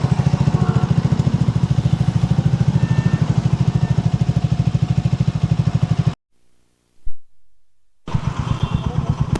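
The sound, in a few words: motorcycle engine exhaust, CB350 and Speed 400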